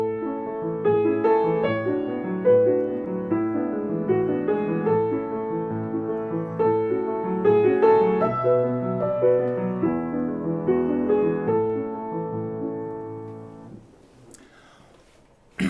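Piano passage played with the sustain pedal changed once on every beat, giving connected, ringing chords in a steady rhythm for about fourteen seconds before the sound decays into a brief thump.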